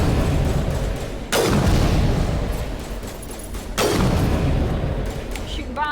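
Two heavy booming blasts from bombs exploding in Mass Effect Legendary Edition, a few seconds apart, each a sudden loud burst fading into a dense, roaring game soundscape.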